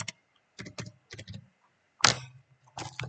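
Computer keyboard keys pressed to type a command into structural drawing software, a handful of crisp clicks in small irregular clusters with short silences between, close and fairly clear.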